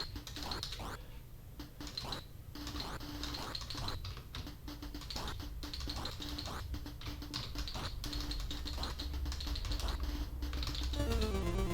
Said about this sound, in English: Be a bit heavy-handed with the older keyboard there.